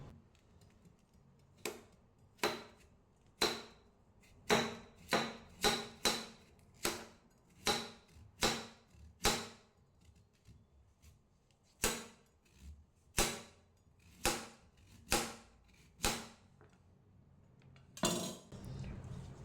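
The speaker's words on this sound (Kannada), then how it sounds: "ಇದನ್ನು ಇವಾಗ ತೆಳುವಾಗಿ ಕಟ್ ಮಾಡ್ತೇನೆ." A knife cuts thin slices of a vegetable against a board, sharp crisp chops repeating at an uneven quick rhythm, close and clear with no talking.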